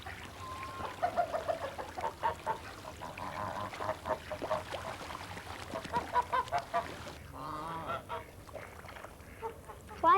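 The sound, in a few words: geese honking on a farm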